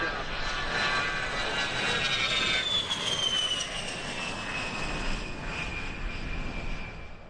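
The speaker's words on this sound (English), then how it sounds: "Here, the departure of one of the Louisiana National Guard F-15Cs we saw earlier, leaving the show with an impressive unrestricted climb." A Louisiana National Guard F-15C jet departs an air show in a steep climb, its loud roaring thrust with a falling whine fading gradually into the distance.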